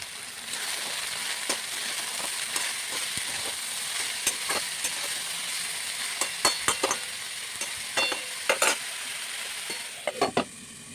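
Greens (shaak) fry loudly in a pan with green chilli, salt, turmeric and five-spice, a steady dense sizzle broken by sharp stirring scrapes and clatters, with no one speaking.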